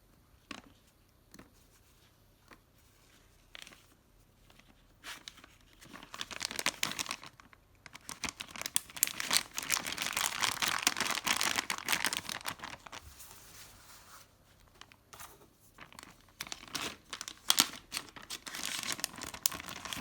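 A plastic freezer bag crinkles in irregular bursts, starting sparse and faint, then growing into dense, close crackling through the middle and tapering into scattered rustles, with no talking.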